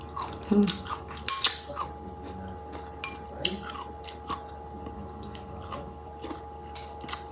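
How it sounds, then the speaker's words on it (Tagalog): Someone bites and chews pickled mango, radish and garlic, producing sparse, close crunches and wet clicks against a quiet background with no speech. "Crunchy po siya. Yung lasa niya, radish talaga."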